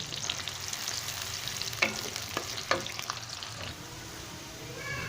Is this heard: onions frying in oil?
yes